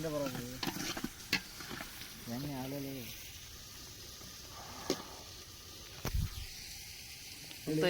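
Chicken fries in oil at a friends' party, with a steady low sizzle and occasional stirring clatter running beneath people talking nearby.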